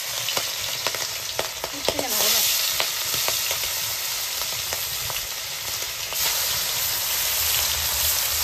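Fish fries in hot oil in a heated wok, giving a close, busy sizzle with crackling spatters and stirring clatter that holds throughout, swelling louder in places.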